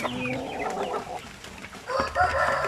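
RTL Basilan chickens, laying hens that have just started to lay, cluck and call close by in a farm setting, with short overlapping squawks and a crow-like call near the end.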